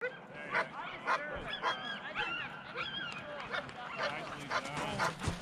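Sled dogs in a snowy winter setting let out a steady, overlapping chorus of excited barks and high yips, fairly close and loud throughout.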